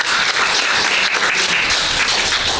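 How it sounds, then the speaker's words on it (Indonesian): Classroom of students applauds a classmate in a loud, continuous burst of many hands clapping close by, steady for a couple of seconds without speech. "Tepuk tangan dong untuk Gaby"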